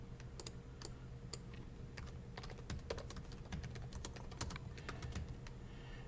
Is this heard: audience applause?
no